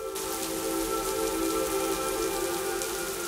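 Heavy rain pouring steadily on a surface near a river, a dense continuous hiss of drops with a faint tonal hum underneath, loud and uninterrupted.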